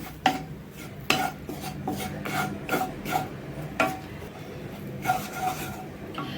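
Grated coconut is dry-roasted in a heavy pan and stirred with rhythmic scraping strokes. The close, raspy scrapes repeat roughly every half second over a soft background.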